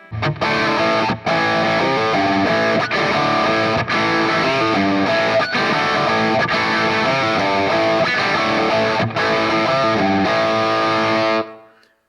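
A heavily distorted electric guitar through a NuX Mighty Plug headphone amp plays chugging chords and riffs, thick and loud, with a roomy reverb tail letting notes ring out at the end.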